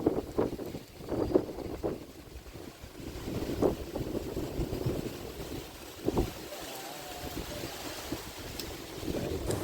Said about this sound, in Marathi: आय डोंट नो तुम्हाला व्हिडिओमध्ये किती कळत असेल ते, पण खूप जोरात वारा सुटला आहे.